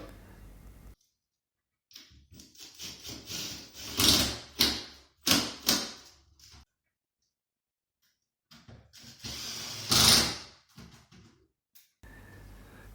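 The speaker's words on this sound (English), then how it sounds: "the shelves get installed, and these get bolted down into the tops of the brackets" Shelves of a mid-century custom wooden storage unit being bolted down onto their brackets: two bursts of close, sharp clacks, knocks and scraping, separated by silence, with no voices.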